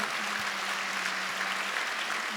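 Applause from a conference audience, an even, continuous patter of many hands clapping at moderate loudness throughout, with a faint steady hum beneath.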